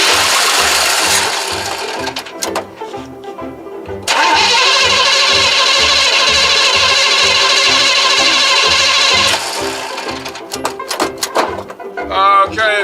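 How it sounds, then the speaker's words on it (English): A square body short bed pickup truck with a carbureted engine cranks repeatedly with a rhythmic, loud starter whir, stops, cranks again and catches, its engine running roughly near the microphone with no voices over it. "now we're going to go ahead and turn the engine over and see if this thing starts."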